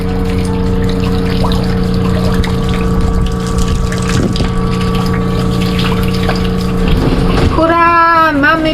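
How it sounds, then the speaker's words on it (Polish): A catamaran watermaker pump runs with a steady mechanical hum and water flowing continuously, loud and close, with a brief rising whine near the end. "Woda leci."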